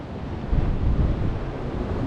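A stormy sea with swells about six feet high, heard from the shore at a fishing spot: a constant, loud wash of surf mixed with heavy wind buffeting the microphone, with no voices.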